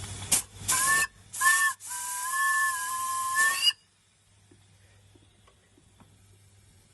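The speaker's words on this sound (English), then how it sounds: "Whistle." A Maxitrak 7 1/4 inch Forney live steam locomotive sounds its whistle close by, a few short steamy hisses followed by a long steady whistle blast that cuts off, leaving faint background noise.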